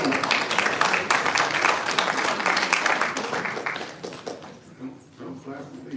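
Audience at a parish meeting claps in a dense burst of applause that fades over several seconds, with a voice talking over the tail end.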